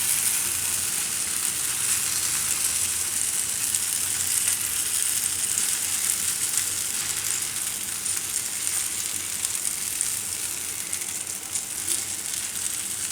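Chickpea flour pudla batter spread thin in a pan sizzles over a low gas flame, a loud, steady, unbroken frying hiss with no talk.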